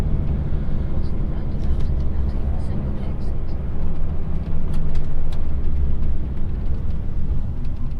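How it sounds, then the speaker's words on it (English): HGV truck engine-braking on the approach to a UK roundabout, between Dorchester and Yeovil: a steady, loud low rumble of diesel and road noise fills the cab, with someone talking over it throughout. "roundabout coming up, so come off the power, apply the engine brake"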